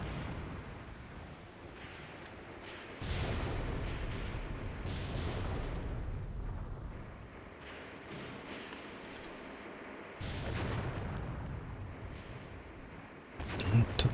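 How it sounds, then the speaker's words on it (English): Artillery fire in the war game Graviteam Tactics, a steady rumbling barrage of distant booms and impacts that swells in bursts, with a sharper crack near the end and no voices over it. "Artillery is coming in back there."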